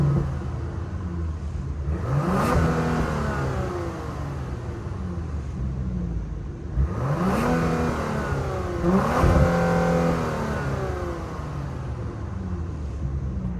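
A 2024 Genesis GV80 Prestige Signature's 3.5 liter twin-turbo V6 idles and is revved several times, each rev rising sharply and settling back to a steady idle, close and clear.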